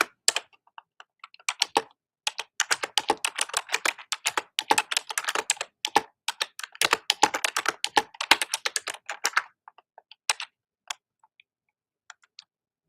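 Rapid clicky typing on a computer keyboard with fingernails, bursts of close, dry taps in quick uneven rhythm with brief pauses, tapering to a few isolated clicks near the end.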